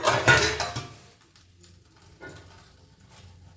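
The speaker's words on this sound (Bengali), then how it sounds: "ঢাকা দিয়ে দিলাম" A lid goes onto a pan of prawns being cooked Bengali style, with a short clatter of metal at the start that dies away, followed by quiet low cooking noise.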